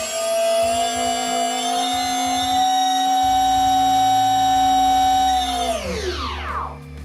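An FPV plane's electric motor on an X-UAV Talon mini airframe whines at a steady high pitch, holding for several seconds before the throttle drops and the tone sweeps sharply down and fades.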